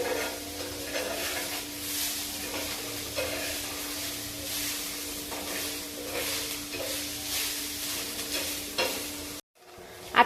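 Chicken pieces being mixed with turmeric, asafoetida and salt for a marinade, a continuous close squelching and rubbing over a faint steady hum, ending in a brief silence and a final knock.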